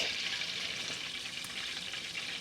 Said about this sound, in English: we're going to saute our shallots. Okay, this is more of a saute now